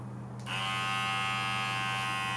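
A Braun cruZer 6 hair and beard trimmer clicks on and settles into a steady, even electric buzz, fairly quiet and close, running alone with no talk.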